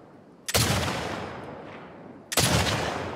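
Two loud, close gunshots fire about two seconds apart in The Last of Us Part II, each a hard crack followed by a lingering echoing decay.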